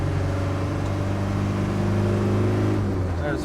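Steady drone of a 1998 Land Rover Defender 90 300Tdi diesel engine pulling in third gear, a loud, constant low rumble with road and cabin noise and no break or change in pitch.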